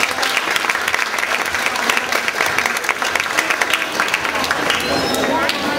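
Audience applause fills a corn festival in Pasaquina, a dense steady wash of many hands clapping at close range for several seconds, with voices mixed faintly underneath.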